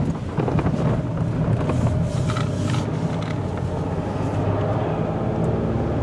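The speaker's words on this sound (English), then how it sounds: "we're going to take her out for a spin now" A green 2004 Ford Freestar SE minivan out on a test drive produces a steady, low interior rumble of engine and road noise that holds evenly throughout.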